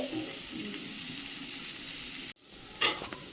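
A pot of vegetable curry boiling on the stove gives a steady, moderate bubbling hiss, which cuts out briefly before resuming with a light clink, and no voices are heard.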